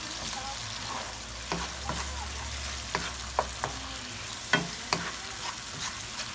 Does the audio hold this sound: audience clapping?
no